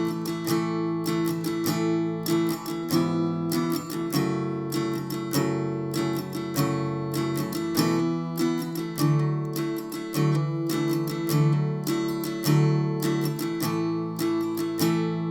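Acoustic guitar playing the intro of a song, clear strummed chords changing every second or so in a steady flowing rhythm, close and alone with no voice.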